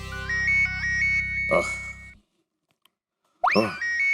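A phone rings with a bright electronic melodic ringtone, a loud close burst of chiming tones that cuts off abruptly, then starts again after a brief silence.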